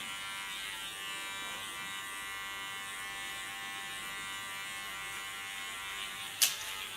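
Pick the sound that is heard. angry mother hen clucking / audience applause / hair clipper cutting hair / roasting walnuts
hair clipper cutting hair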